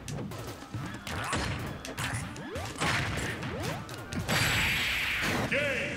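Wario's smash attacks land in Smash Ultimate with heavy crashing thwacks and whooshes, repeated impacts layered over busy game effects and music.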